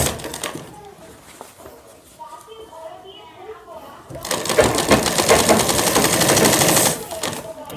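A sewing machine stitches shirt fabric, a close, rapid mechanical rattle that starts partway through and runs steadily for about three seconds after quieter handling sounds.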